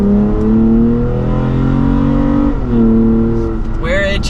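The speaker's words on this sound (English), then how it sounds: "you really want to hear that exhaust open up" A Toyota Tacoma pickup's exhaust drones loudly and steadily close by, its tone dipping briefly mid-way and rising again before a short whine near the end.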